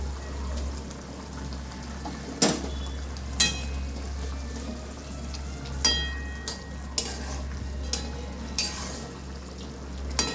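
Fried fish pieces go into a hot pan for a Bengali fish curry with aubergine, the oil sizzling steadily underneath while a spoon scrapes and clacks against the pan in several sharp, spaced knocks.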